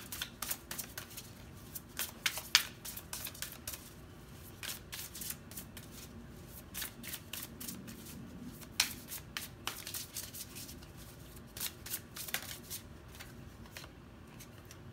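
A deck of tarot cards is shuffled by hand, with soft, repeated riffling and slapping bursts in a quiet room. Nobody speaks.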